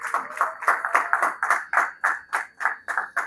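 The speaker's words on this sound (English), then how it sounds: "Let's clap for ourselves" A small group claps slowly and in unison at an annual talent awards dinner, about a dozen evenly spaced hand claps, close and fairly loud.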